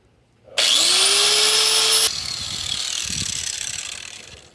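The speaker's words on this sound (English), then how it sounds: "I went ahead and got this wire wheel, so we'll see how she does" A wire wheel spun by a drill grinds against car exhaust headers to strip corrosion and old coating, a loud, harsh whirring scrape that starts abruptly, then drops to a lower rasping hum as the wheel meets the metal.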